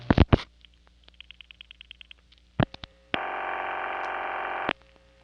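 A 1973 New York City telephone routing dials a single digit 0 into a PBX, heard as sharp clicks, a brief run of rapid pulses, more clicks and then a steady buzzing tone lasting about a second and a half before cutting off.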